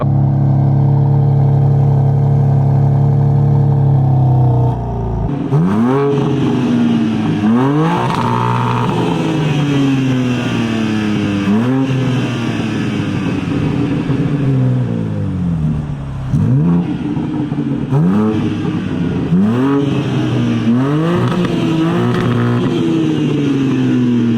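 A BMW G80 M3 Competition engine revving hard in a repeated series of rising and falling blips after a steady idle, loud and close, with no talking over it.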